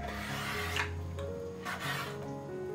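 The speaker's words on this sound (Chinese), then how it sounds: "处理干净了之后，给它切成长条。" A knife scrapes and cuts a cleaned pork stomach into long strips, making a soft, continuous rubbing and rasping close by, with two slightly stronger strokes.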